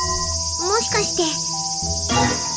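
Loud cicadas buzzing in a dense, unbroken high drone throughout, with voices talking over the insect chorus.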